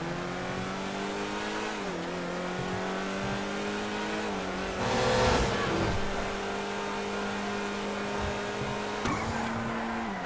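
A supercar in GTA V roars on a steady engine note that dips and climbs, then a burst of skidding tire noise around the middle, with another short screech near the end.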